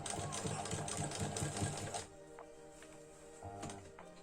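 A sewing machine stitches a fabric strip with a fast, close mechanical whirr for about two seconds, then stops, leaving a quiet room with a faint click.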